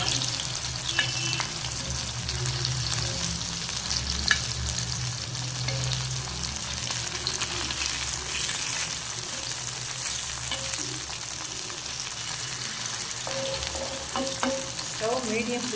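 Murrel fish frying in masala in a pan over a medium flame gives a steady, close sizzle that runs the whole way through, with occasional light stirring clicks and no talking.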